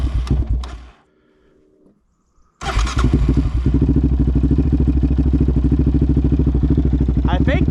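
A Raptor ATV engine runs roughly, cuts out into near silence for over a second, then sputters back to life and settles into a steady, uneven idle with a clattering pulse; voices talk over it.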